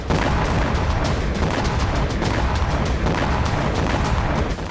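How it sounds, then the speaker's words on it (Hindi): A Ukrainian drone strike on a Russian explosives factory, a loud continuous roar of blasts and rumbling that stays dense and unbroken for several seconds, with rapid overlapping booms and no quiet gaps. "वहीं यूक्रेनी ड्रोन से हुआ जोरदार धमाका"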